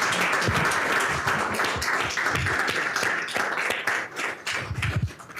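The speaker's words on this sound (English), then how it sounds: "let's give a round of applause for our panelists" Audience applause for the panelists at a symposium, a steady wash of many hands clapping that holds for several seconds and swells near the end.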